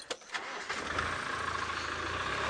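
A safari vehicle's engine starts and settles into a low rumbling idle as it prepares to move off, fairly close, with no talk over it.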